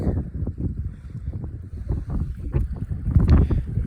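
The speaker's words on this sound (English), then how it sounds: "the wind" Wind gusts buffet the microphone outdoors on barren open ground in early spring, a close, uneven low rumble that rises and falls without pause and is strongest near the end.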